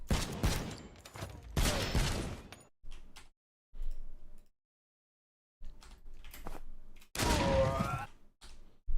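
Weapons being test-fired in the game Suit for Hire: loud bursts of gunfire in separate clusters with short silent gaps between, some longer rattling volleys and a few quieter clicks and thuds.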